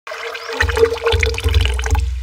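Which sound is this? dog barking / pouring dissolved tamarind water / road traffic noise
pouring dissolved tamarind water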